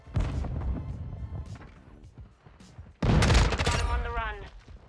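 Rapid bursts of M4A1 SOPMOD rifle fire in Modern Warfare 2, loud sharp volleys in two clusters with a brief lull between, mixed with game sound effects.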